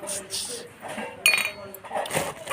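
A toy kitchen wok clatters and clinks lightly as it is handled, with a voice talking over the sharp metallic knocks.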